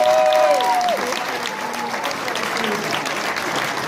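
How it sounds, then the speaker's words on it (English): Convention panel audience applauding at Wizard World Con in Oklahoma City, a dense sustained wash of clapping from a large crowd, opening with a brief whistle-like tone and continuing steadily to the end. "Big round of applause for Stefan."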